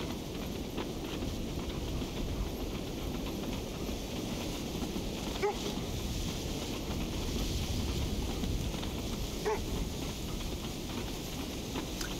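Steady wind blowing across an open wilderness in the video game Kona II Brume, a constant broadband rush that stays loud and even throughout, with a couple of faint brief clicks.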